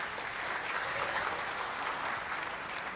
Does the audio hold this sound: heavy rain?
no